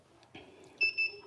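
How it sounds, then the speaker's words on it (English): A cup press counts down with a few short, faint electronic beeps, two clearer tones arriving close together near the end, with quiet room noise underneath. "it's doing the little countdown beep"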